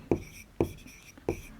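Chalk strikes a classroom board in three sharp, evenly spaced taps and short strokes, close and fairly quiet.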